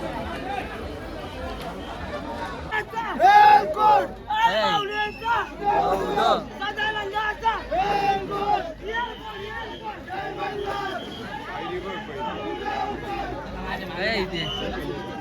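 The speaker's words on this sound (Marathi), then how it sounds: "इथं गर्दी फुल आहे" A crowd of devotees presses through a palkhi procession in the rain, a busy babble of many voices and chatter close around, with a nearer voice rising loudly over the hubbub in bursts.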